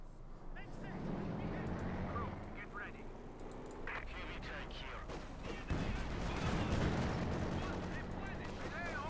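Tank cannon shots boom through a Company of Heroes 2 battle involving a Panther, layered over dense continuous battle noise while a commentator talks throughout.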